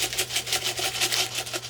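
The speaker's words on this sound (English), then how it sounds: "I'm going to shake a bunch of the pins out onto my quilt top" Open metal quilting pins shaken out of a container onto a quilt top, a rapid, rhythmic jangling rattle of many small pins, loud and close, continuing without a break and with no talk.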